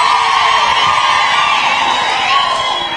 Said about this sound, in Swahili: Wapi shangwe na vigelegele ya watu?